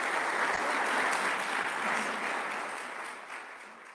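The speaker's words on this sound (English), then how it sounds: "Could we give them a nice, warm round of applause?" Warm, sustained applause from an evening event audience, honoring a panel, forms a thick even roar that slowly tapers off toward the end.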